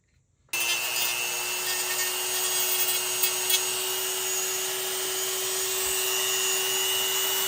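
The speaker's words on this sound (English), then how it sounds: "You'll notice the Dremel doesn't give us a perfect flat sand, but it gets us close to where we need quickly." A Dremel rotary tool sands the edge of a plastic Stormtrooper costume shoulder strap, starting abruptly and then running as a steady, loud, high-pitched whine with a gritty rasp, alone and unbroken.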